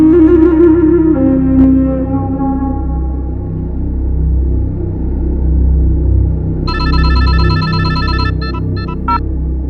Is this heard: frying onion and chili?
no